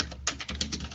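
Quick typing on a computer keyboard, a short run of about half a dozen crisp key clicks in close succession, close and fairly quiet.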